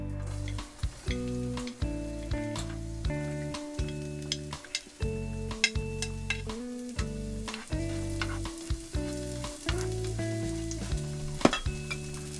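Garlic sizzles in a pan as the base for arroz valenciana, a steady close crackle and hiss running throughout, layered over background music with sharp pops scattered through it.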